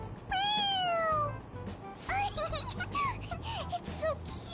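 A pressed toy cat from Persona 5 Royal gives a long, clear meow, then a quick run of shorter mews over steady background music.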